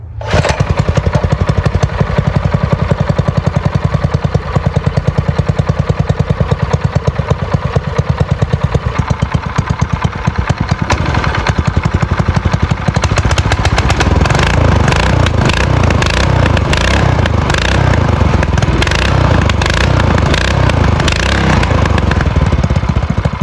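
A Predator 212cc engine on a budget minibike runs steadily and loudly throughout, a continuous close-up mechanical drone with a rough, rumbling throb and some revving fluctuation in its second half.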